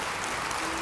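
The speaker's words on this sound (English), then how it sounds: "the forced politeness of the applause that follows is palpable" Polite applause from the audience at Nintendo's E3 show: a dense, steady wash of many hands clapping at once, fairly distant and even, with no voices standing out.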